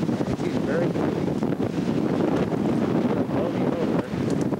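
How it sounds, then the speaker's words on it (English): Strong, steady wind buffets the microphone with a loud, continuous rumble and roar that persists throughout, on a mountainside site in 1997. "And you see it's very windy."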